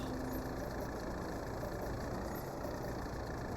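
A tractor engine idles in the Farming Simulator 22 video game, a steady, low mechanical drone that stays constant throughout and sounds fairly quiet.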